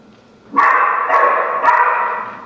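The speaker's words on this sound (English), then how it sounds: "That bark goes right through me." Staged dog-bark sound effect in a high school production of a stage play, heard as three loud, sustained barks in close succession with no talk over them.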